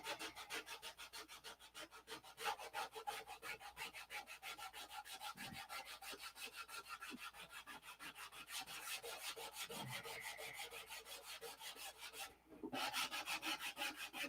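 Continuous rhythmic rubbing of sandpaper over a P-47 model airplane, a fast steady back-and-forth scratching that stays fairly quiet and close throughout, with only brief breaks in the strokes.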